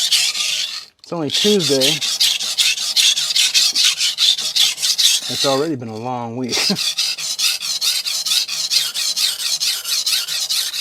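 A knife is sharpened on an HK Knife Works 400 grit extra hard vitrified diamond whetstone, giving loud, steady rasping back-and-forth strokes that continue almost without pause while someone talks over them.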